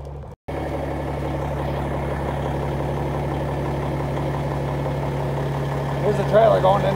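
A 2005 Clement 35 ft end dump trailer raises its bed while the truck idles steadily nearby, a constant low engine drone with a brief dropout near the start and a rising hydraulic whine toward the end.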